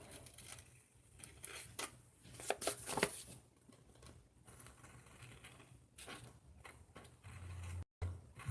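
Scissors trimming a paper overhang off an envelope: a quick series of close, crisp snips and rustles, with quiet paper handling between cuts.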